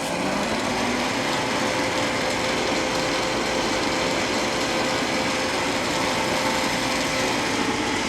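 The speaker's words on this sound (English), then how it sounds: "I'm running this about 600 RPM and feeding manually." A machine spindle turning at about 600 RPM with manual feed cuts a steel connecting rod for a model steam engine, giving a loud, steady whine and mechanical hum with constant cutting noise and no pauses.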